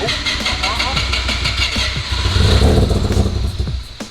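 A car engine cranks and catches, settling into a loud rough idle nearby while people talk over it.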